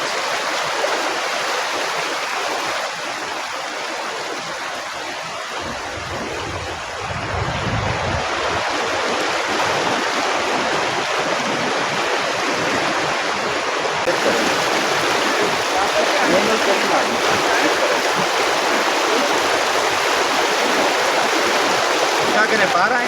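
Spring water near Islamabad rushes over stones in a continuous, close, hissing flow that grows a little louder after the first few seconds, with brief low wind rumble against the microphone.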